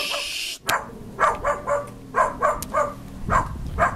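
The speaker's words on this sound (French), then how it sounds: "C'est le chien des voisins." A neighbours' dog barks repeatedly at a moderate distance, giving about seven evenly spaced woofs after a brief scraping sound at the start.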